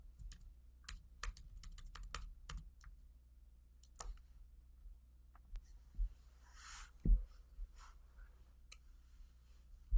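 Typing on a computer keyboard while coding: quick bursts of close key clicks in the first few seconds, then sparser isolated taps and a few louder thumps, with no speech.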